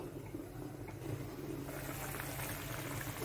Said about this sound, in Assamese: চব্জি উতলি আছে।